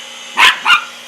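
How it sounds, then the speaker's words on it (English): Two sharp barks from a nearby dog barking at a cat, the second slightly softer, against a constant low hum. "That's my dog barking at him."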